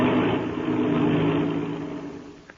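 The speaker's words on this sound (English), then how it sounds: "That's the way an airplane motor starts, fast as a flash." Airplane engine started with an inertia starter, roaring up loud and close right away as a steady rough drone that holds for a couple of seconds and then eases off slightly, with no voices over it.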